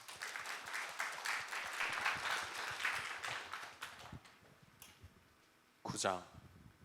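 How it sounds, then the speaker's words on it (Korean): Members of a church congregation clap together for a few seconds, fairly faint and a little distant, before the clapping fades and a voice speaks briefly at the end. "우리 네 분 오늘도 수고하셨는데 박수 한번 좀 드리도록 하겠습니다"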